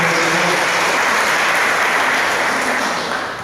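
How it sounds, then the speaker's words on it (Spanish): Congregation applauding during a church worship service, a dense, steady wash of clapping that holds for several seconds before easing slightly at the end. "aplauso al Señor, hermano, bendito sea el nombre del"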